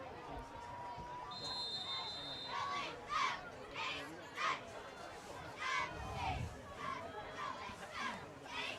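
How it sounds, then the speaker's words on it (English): A crowd murmurs steadily in the stands at a night high school football game between Minot and Davies, with scattered shouts and cheers rising and falling throughout. "Good crowd on hand here tonight at South Fargo."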